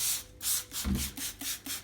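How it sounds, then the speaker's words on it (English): A hand spray gun mists water over sticky bread dough scraps stuck on a worktable, giving several short hissing bursts in a steady rhythm, close and fairly loud, with no voices. "So give it a really good moisten with your spray gun."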